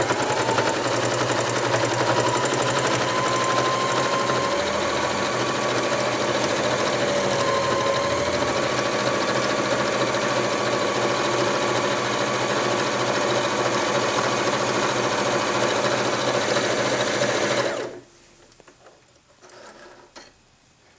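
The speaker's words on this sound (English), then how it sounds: "I'm going to be able to sew through 8 layers of denim all the way down to a standard cotton, and then also to a stretch material" A Janome HD5000BE sewing machine stitches steadily through eight thick layers of denim, a loud, even mechanical whir and rapid needle chatter running close for about eighteen seconds before stopping abruptly into near quiet.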